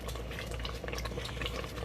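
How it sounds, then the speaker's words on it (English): Thick peach jam bubbling at a vigorous boil in a pot, a dense stream of popping and blurping close by, steady and unbroken with no voices. "So we are boiling at a hot boil."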